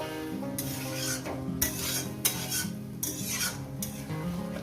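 A spatula gently stirs and scrapes loitta (Bombay duck) fish curry in a pan, with soft rasping strokes recurring about every second over a low steady simmer, close and moderate in level.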